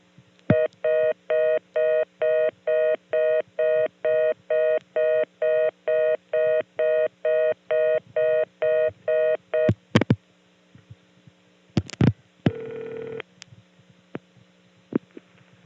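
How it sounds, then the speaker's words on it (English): A 1976 reorder tone from the Green Hills, Pennsylvania step-by-step exchange: a fast, steady on-off beeping of about a dozen evenly spaced bursts over a low hum, followed by a few clicks and a short buzz. "So now we'll get to hear a reorder from Green Hills, and unlike the one on Intercept, this one is not so distorted."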